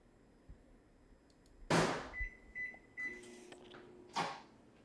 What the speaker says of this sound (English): So we're gonna put this in the microwave